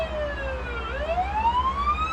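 Ambulance siren from a paramedic simulator video game wails alone, its pitch sweeping down and then climbing back up in a steady, loud electronic tone with no voices.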